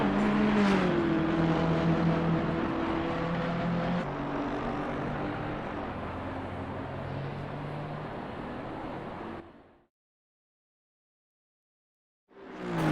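Race car engine in the game Assetto Corsa Competizione during an endurance race at Barcelona, a steady droning roar with shifting pitch that drops off abruptly into silence before returning at the very end.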